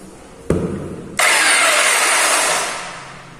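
An INGCO PBSI12001 belt sander clicks on and spins up into a loud, steady whirring roar that holds, then slowly eases off toward the end.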